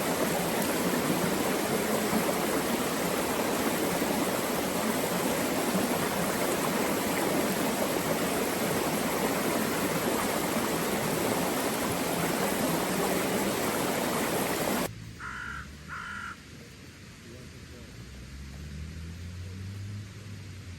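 Heavy rain pours down in Robertson Park in Scotland, a dense, loud, unbroken hiss that cuts off abruptly after about fifteen seconds, leaving a much quieter background with a few faint knocks.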